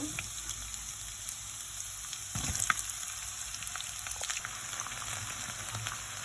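Chopped ginger, garlic and onion fry in oil left over from browning chicken, a soft continuous sizzle near the pan with a brief clatter of stirring midway.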